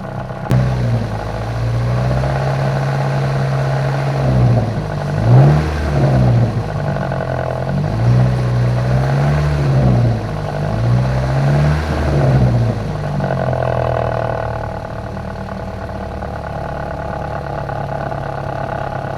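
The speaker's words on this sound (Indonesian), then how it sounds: "Coba kita geber." A car engine, checked for radiator overflow on a long road trip, idles, then revs in several rising and falling bursts before settling back to a steady, loud, close idle.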